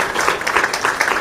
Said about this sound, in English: just another huge round of applause for our wonderful panelists